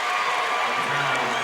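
A basketball crowd in a high school gym reacts in disagreement to a blocking foul called against Union City, a dense roar of voices and shouts at a steady level throughout.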